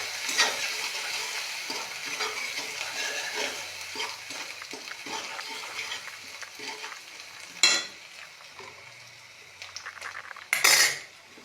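Cumin and ginger paste sautéing in a pot, with a utensil stirring and scraping steadily over a soft sizzle, then two sharper clanks against the pot near the end.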